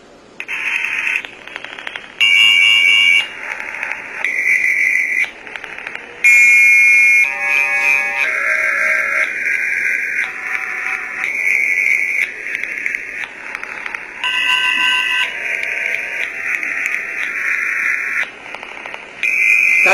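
A computer program plays a continuous series of electronic alarm-like interference tones, shifting between beeping and buzzing pitches with short gaps, loud and steady for the whole stretch with no talking.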